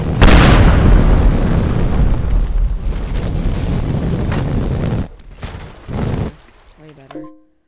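A loud, booming explosion in the game Teardown with a long rumbling tail that fades out, followed by a few quieter bursts and a short tonal chime at the end.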